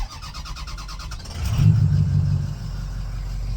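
Ford 6.0 Powerstroke diesel engine idling high, a steady close low rumble that swells briefly louder midway before settling back to a constant drone.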